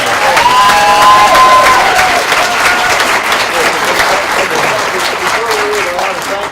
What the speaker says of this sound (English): please give the biggest round of applause